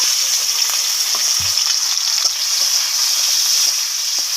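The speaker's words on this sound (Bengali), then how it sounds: "তেল গরম হয়ে গেছে, চিংড়ি মাছগুলো ভেজে নেব।" Prawns frying in hot oil for a wedding-style jackfruit and prawn curry, giving a loud, steady, close sizzle and hiss throughout with faint stirring knocks and no talk.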